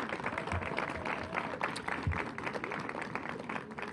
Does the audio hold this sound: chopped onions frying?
no